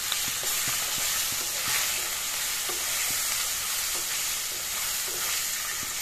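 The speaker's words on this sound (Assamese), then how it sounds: "তাৰপিছত মাছখিনি দি দিওঁ।" Fish pieces marinated in turmeric and salt fry in hot oil, giving a steady, close sizzling hiss with occasional light taps of a stirring utensil throughout.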